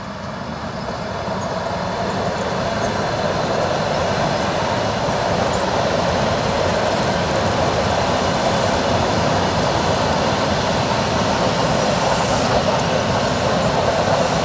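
A Russian electric commuter train rolls past at close range, a loud, steady rumble with hissing and faint wheel squeal that holds throughout.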